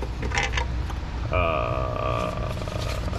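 A throttle body adapter slides into place on a Toyota 3.3 V6 engine with a close, squeaky creaking scrape lasting about a second, amid low workshop background noise.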